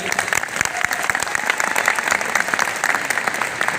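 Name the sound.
audience applause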